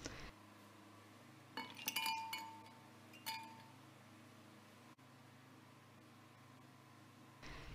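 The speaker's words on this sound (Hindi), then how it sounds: "फिर हम डालेंगे इसमें बर्फ़ ताकि बहुत ही ठंडा ठंडा" Ice cubes clink and rattle into a glass smoothie jug with banana, apple and milk, a few bright close chinks clustered in the middle over a low steady kitchen hum, then quiet.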